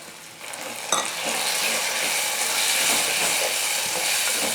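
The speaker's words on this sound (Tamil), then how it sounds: "இந்த தக்காளி விழுது சேர்த்துக்கிறேன்" Tomato paste frying with onions and manathakkali berries in a pan for a Tamil kulambu, a steady loud sizzle with a sharp spatter near the start, close and continuous throughout with no talk.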